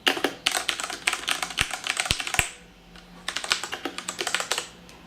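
Rapid typing on a Qpad MK-85 gaming keyboard with light-touch, non-clicky switches, dense close keystrokes in two bursts with a short pause and a few sharp low thumps between.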